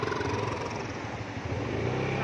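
Motorcycle on a muddy village road, engine running close by with a rough steady rumble and some clatter over about two seconds.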